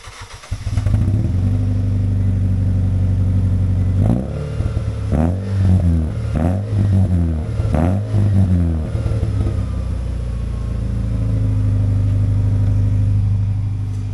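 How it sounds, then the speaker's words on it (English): A Nissan Versa engine idling loudly with a deep, steady exhaust drone, punctuated midway by several quick throttle blips and a rhythmic pulsing before settling back to an even idle. "we'll just do a quick exhaust clip here. My battery is almost dead, so we'll see if we catch it."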